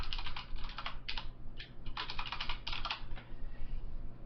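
Someone types a password on a computer keyboard in short bursts of quick, crisp key clicks broken by brief pauses. The keys sound close and fairly quiet, with no talking.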